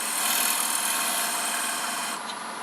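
A wood lathe scraper cuts a bead on a turned paten, giving a steady, loud, close scraping hiss with a bright rasping texture that eases slightly near the end.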